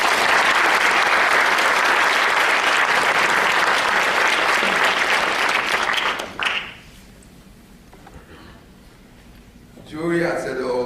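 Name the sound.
audience applause at a benefit dinner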